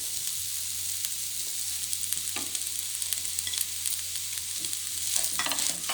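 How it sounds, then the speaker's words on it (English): A pan of egg fried rice with spices such as pudina, coriander powder and biryani powder is stirred over steady sizzling, with scraping strokes of the spoon toward the end; no one speaks. "Mix it well."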